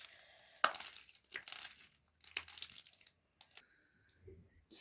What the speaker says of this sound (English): Now you have to mix it with your hands.